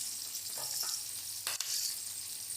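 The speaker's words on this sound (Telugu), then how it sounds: "ఒక 4 వెల్లుల్లిపాయ రెప్పలు వేసుకున్నానండి. వీటిని బ్రౌన్గా ఫ్రై చేసుకోవాలి." Garlic cloves fry in hot oil for a stuffed brinjal curry, a steady close sizzle with a couple of brief stirring scrapes, no talking.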